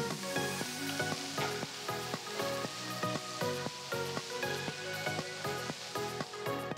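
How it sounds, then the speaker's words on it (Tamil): Onion sizzles and crackles in a pan with ginger and a dozen garlic cloves, a steady close frying hiss with bubbling pops and stirring, no talking. "வெங்காயம் பாதி வதங்கினதும் நறுக்கி வச்சிருக்கிற ஒரு துண்டு இஞ்சி, 12 பல்லு பூண்டு சேர்த்து கலந்து வேக விடுங்க."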